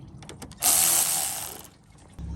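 A hand ratchet loosens the 10 mm and 12 mm battery nuts and bracket fasteners on a 2nd-generation Toyota 4Runner with a 3.0L V6, giving a few faint clicks followed by a brief loud whirring spin.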